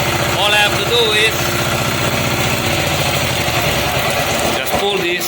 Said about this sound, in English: just pull this and it shuts off the engine